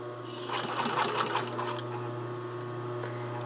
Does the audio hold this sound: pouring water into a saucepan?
no